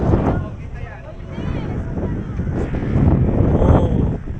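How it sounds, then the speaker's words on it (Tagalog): Strong gusts roar and buffet the microphone on a Gixxer 155fi motorcycle ride, a continuous loud rumble that swells toward the end, with a rider's voice faintly under it. "hindi umuulan, pero malakas lang ang hangin"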